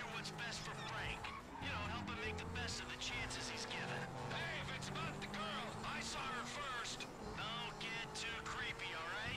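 A car engine revs and drones while driving in Grand Theft Auto V, the steady game-vehicle noise sitting under continuous loud talking from a player.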